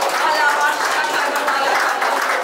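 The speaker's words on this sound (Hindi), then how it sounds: "ताली बजाकर परमेश्वर की महिमा" A congregation at a Hindi Christmas church service claps in praise, a steady, close wash of hand claps blended with voices that carries on without a break.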